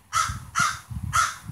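Three loud, harsh caws from a black bird, perched close by on a lump of black coal, each call spaced about half a second apart over a low rumbling background.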